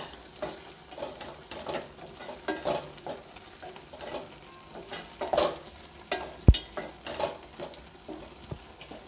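A spoon stirs pasta masala with vegetables and added water in a pan over a medium flame, giving soft scraping and sizzling with intermittent clinks of utensil on pan and one sharp knock.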